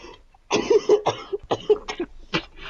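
A person coughs several times in quick succession, a close, fairly loud burst of rough coughs and throat sounds during a quiz game, with no words spoken.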